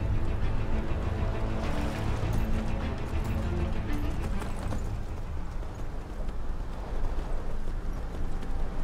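Horse hooves clip-clop steadily in the fantasy video game Enderal, a continuous loud trot over a dense, full background with no talking.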